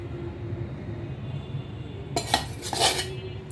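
Boiled masoor lentils tipped into a mash mix, with a burst of close metallic pot and spoon clatter after a quiet stretch, two clusters of clanking scrapes.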